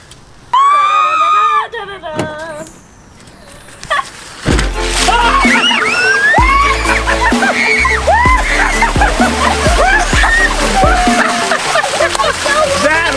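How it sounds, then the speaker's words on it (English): Water from a pool set up in a Ford F-250 pickup bed pours and splashes out in loud bursts, mixed with excited voices and children's shouts nearby. "we are going to empty out the pool now"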